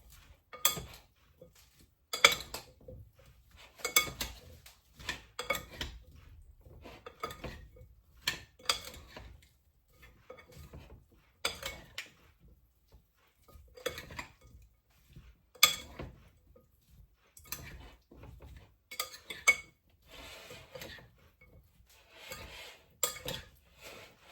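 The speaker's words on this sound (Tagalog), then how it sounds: "Paghaluin na lang natin." Utensils clink and scrape against a bowl while tossing a salad, a steady run of light tapping and clattering strokes, close and fairly quiet, with no talk.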